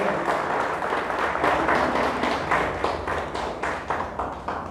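A church congregation applauds, loud rhythmic hand claps in a roughly steady beat, fairly close and energetic, with the clapping rising and falling slightly over a few seconds.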